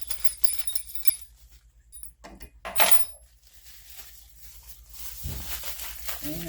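Metal Allen wrenches and handles being sorted from a bag for a Vevor 1550W magnetic drill press, light clinks and jangles of metal pieces with a rustle, close and intermittent.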